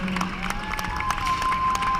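Applause for a class teacher at a high school graduation sash ceremony, a brief wash of crowd clapping under a steady background tone.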